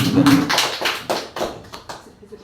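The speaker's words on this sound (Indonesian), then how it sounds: "berikan aplaus untuk" A small audience at a school gathering of SMKN 2 Komodo claps in a short burst of distinct hand claps that gradually thin out and fade.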